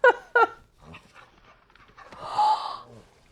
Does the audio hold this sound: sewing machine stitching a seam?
no